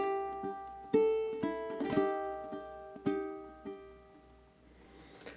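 Ukulele playing the second measure of a song, a slow run of plucked chords and single notes that ring and decay, easing into a gentle slowdown at the end, with no talking.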